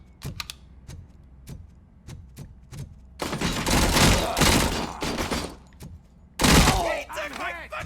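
A Tec-9 fires rapid bursts in RoboCop Rogue City: a string of sharp single shots, then two dense, loud automatic bursts, the second followed by ricochet-like chirps.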